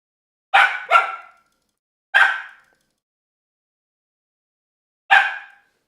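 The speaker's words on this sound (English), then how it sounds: "Hey, no barking." A dog barks four times, two quick barks close together, then a single bark, then a final one after a pause, loud and near with silence in between.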